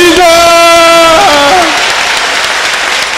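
Congregation clapping together at a church testimony service, a dense steady wash of applause with a sung or voiced tone over the first half, fading slightly toward the end.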